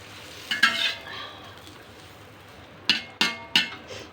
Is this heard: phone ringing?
no